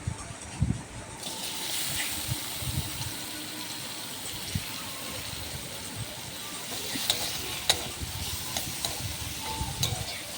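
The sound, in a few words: potatoes frying in mustard oil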